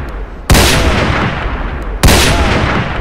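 Two loud sniper rifle shots fire in a Roblox shooter game, each a sharp close crack with a booming tail, spaced about one and a half seconds apart.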